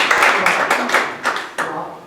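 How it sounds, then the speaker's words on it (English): A short burst of audience applause at a magic show, with claps rising and falling in a few waves, fairly close and loud. "Oh, you can applause for that."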